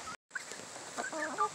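Chickens clucking nearby in short, soft calls, with a brief silent gap near the start, then overlapping clucks and chirps.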